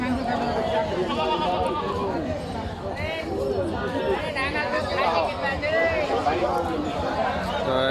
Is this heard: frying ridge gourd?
no